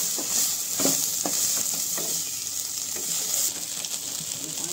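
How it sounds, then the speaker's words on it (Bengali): Soybean chunks fry in a pan with salt and turmeric, a steady close sizzle broken by soft scrapes and taps as they are stirred. "সয়াবিনটা একটু লবণ এবং হলুদ দিয়ে ভালোভাবে ভেজে নিচ্ছে।"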